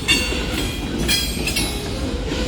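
A Union Pacific mixed freight train rolls past a crossing with new TTX boxcars, a steady loud rumble of wheels with faint rhythmic clacks and brief squeals, close and continuous.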